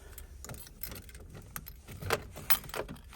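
Keys jangle close by in a few brief bursts, pulled from a pocket near a Toyota Supra with ignition wiring trouble, with light background noise and no talking.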